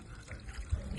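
Water poured by hand onto the soil around a freshly repotted rose plant in a pot gives a soft, brief, close trickle at low volume.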